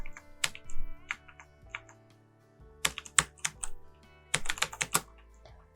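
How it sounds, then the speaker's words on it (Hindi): Keys on a computer keyboard tapped while entering text in Microsoft Word, sounding as crisp, close clicks in irregular clusters with quiet gaps between; no one talks. "जैसे कि मैं यहाँ पे टाइप करना चाहती हूँ"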